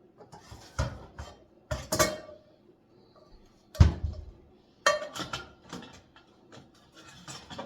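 Pots and pans clatter and clink in a home kitchen as a separate pot is pulled out for cooking onions, several sharp metallic knocks and rattles spaced a second or two apart, fairly close, with no talk.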